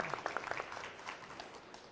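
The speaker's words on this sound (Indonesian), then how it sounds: "Tepuk tangan untuk Regu C." Faint applause for a team at the 2015 MPR RI quiz competition in Indonesia, a few distinct claps at first that thin into a scattered, distant patter.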